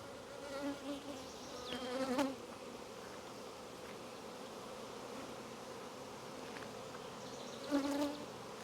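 Swarm bees being combined into hives, a dense, continuous buzzing drone close by, with a few louder passes as individual bees fly near.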